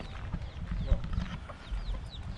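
A hen clucks several times in short bursts at Kirk Market in Grand Cayman, set against busy background noise from the shop floor.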